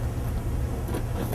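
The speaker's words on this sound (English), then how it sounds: "you then start the truck's engine" A truck's engine runs steadily close by, a low continuous rumble with no talking, heard on a truck carrying a pumping system for concrete delivery.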